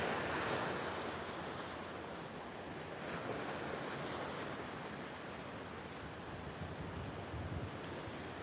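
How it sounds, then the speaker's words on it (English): Sea water rushes and washes through coastal rocks in a continuous, fairly faint surf wash, with gusts of wind buffeting the microphone and no voices. "You can see all the water just bobbling through all the rocks there."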